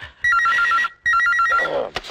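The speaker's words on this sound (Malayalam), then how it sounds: "Phone phone." A telephone rings loudly in two bursts of trilling bell tones, separated by a short pause, with no voices over it.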